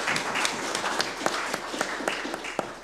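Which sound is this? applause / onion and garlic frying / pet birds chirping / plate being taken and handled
applause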